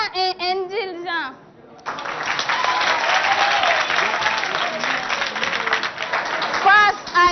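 Audience applause at a school quiz show between two bilingual secondary schools: a brief voice opens, then loud, sustained clapping from a crowd fills the rest, swelling near the end.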